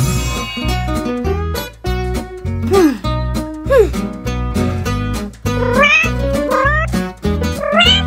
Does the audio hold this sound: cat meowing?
yes